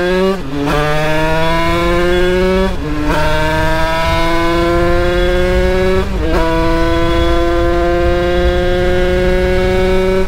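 A Derbi DRD Pro 50cc motorcycle fitted with a Bidalot kit rides along a road on a damp day, its engine loud and close, climbing in pitch through three gear changes in a steady buzzing drone.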